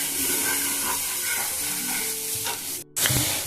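A spice paste with turmeric frying on a medium flame, a continuous close sizzle with stirring, broken by a brief cut near the end before the sizzle resumes.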